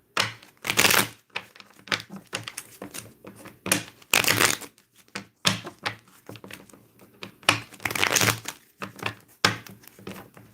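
Tarot cards shuffled by hand in a long run of crisp, papery riffles and snaps, close and fairly loud, arriving in bursts with short pauses between them and no talking over them.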